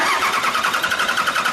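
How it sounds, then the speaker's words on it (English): A 2001 Dodge Cummins diesel pickup engine catches and runs, a steady close, loud mid-pitched churn with a slightly uneven rough pulse throughout and no talking. "Truck starts, it's going to run rough for just a second."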